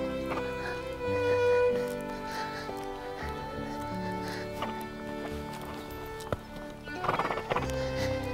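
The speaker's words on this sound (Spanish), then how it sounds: "Ahora vamos a dar unas medias piruetas al paso, a que veáis cómo el caballo se apoya en los pies." Horse walking half pirouettes at a walk, hooves striking the ground in a slow uneven rhythm, moderately close, with a brief snort or whinny near the end over faint background music.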